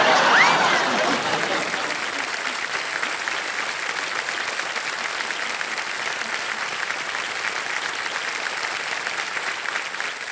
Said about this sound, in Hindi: और जितनी महिलाएं बैठी हैं सब ताली बजा रहे हैं